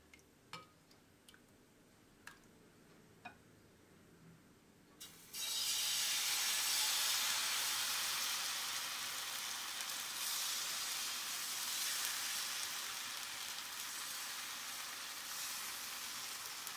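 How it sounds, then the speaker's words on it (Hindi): Rice flour rava dosa batter poured onto a hot tawa over a high flame bursts into a loud, steady hissing sizzle that fills the rest of the moment. It comes after several seconds of faint, sparse clicks in a quiet kitchen. "तवा अच्छा गर्म हो गया है, मैं बैटर डालूंगी इसमें।"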